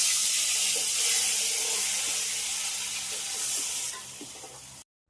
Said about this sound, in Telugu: కరివేపాకు, టమాటాలు అన్నీ ఇదిగోండి ఆయిల్లో ఫ్రై చేసేస్తున్నాను.